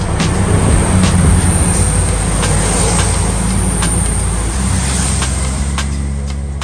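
A steady, loud rumble of a train at a station, with constant broadband noise and faint metallic clicks throughout. No voices.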